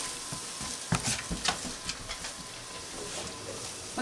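Churros cooking in hot oil give off a steady, fairly quiet sizzle and crackle, with a few soft clinks and bumps scattered through it, and no talking.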